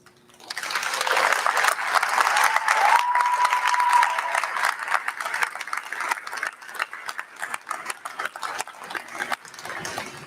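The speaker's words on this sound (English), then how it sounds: "Shahram, please stand and be recognized with a round of applause." Audience applause at a commencement ceremony for industrial engineering technologies and workforce graduates, a sustained dense round of clapping that swells quickly, holds steady, then thins out toward the end.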